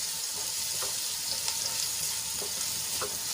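Finely chopped onion sautéing in hot oil in a pan, a steady close sizzle and crackle running throughout with faint stirring clicks.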